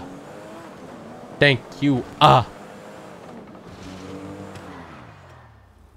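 Porsche car driving in the GTA 5 video game, a low engine drone with rising revs heard under a man's speech and a brief burst of voices, moderately loud and steady.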